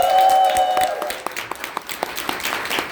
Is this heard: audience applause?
yes